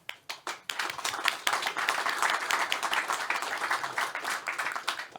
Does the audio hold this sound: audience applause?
yes